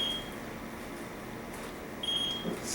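A TIF ZX-1 refrigerant leak detector gives a high electronic beep, then after a pause another beep follows, thin and piercing against faint background hiss.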